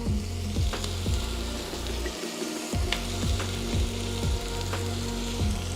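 Loud, busy sizzling and crackling of peppers frying in a hot skillet, with repeated scraping and stirring clatters throughout.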